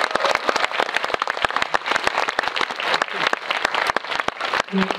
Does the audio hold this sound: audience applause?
yes